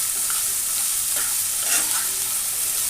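Cubed potatoes with a little salt fry and get stirred in a pan, giving a steady broad sizzle with scraping strokes of the spatula near the middle. No one speaks.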